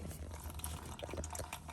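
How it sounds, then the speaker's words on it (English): Engine coolant from a 2006-2011 Honda Civic Si with a K20 engine drips and trickles into a drain pan, faint and close, with small irregular splashes over a low background rumble. "Just let it drip, and let all that coolant just come out."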